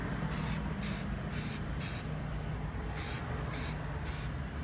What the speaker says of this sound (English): Now that it's dry, I'm gonna spray it with the oil filter.